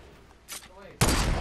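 In a video game firefight, a sniper rifle shot cracks out loudly and suddenly after a softer earlier report, with a bit of voice in the background.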